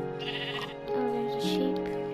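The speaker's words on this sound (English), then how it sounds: "Oh, there's a sheep." A sheep in a survival video game bleats twice in quick succession, close and clear, a short wavering call standing alone without talk.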